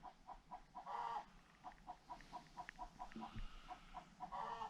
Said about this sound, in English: Chickens are announcing they just laid some eggs.